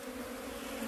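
Bees from two hives swarm and hum in a continuous, steady buzz of many wings around the hive, with no talking over it.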